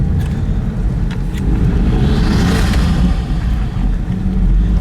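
BMW E46 engine running in cold weather, a loud steady close-up idle drone with a brief swell partway through and no voices.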